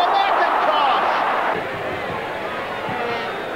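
A football crowd at a VFL match roars loudly, then settles into a lower sustained hum of cheering and murmur, with a commentator's voice over the top.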